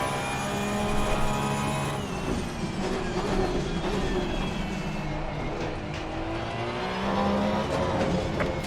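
Porsche 992 GT3 Cup race car engine in Assetto Corsa Competizione drones loudly and steadily with sustained harmonic whine, pitch easing and then climbing again as throttle is reapplied, with no talk.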